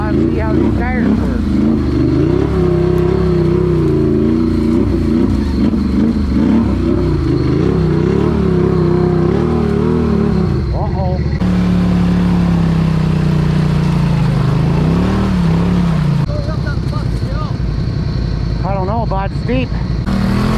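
An off-road vehicle fitted with EFX Motoslayer mud tires churns through deep mud, its engine droning and revving loudly and continuously up close, with the pitch rising and falling as it pushes through.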